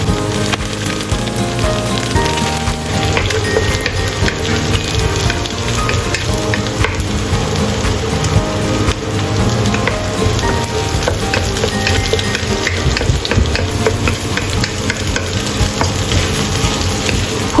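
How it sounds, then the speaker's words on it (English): Onion and beaten egg sizzle and crackle steadily in a hot pan as the egg is scrambled, with dense continuous frying noise and occasional stirring scrapes, close and loud throughout. "Pour in egg and scramble."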